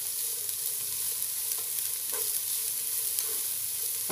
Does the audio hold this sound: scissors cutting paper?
no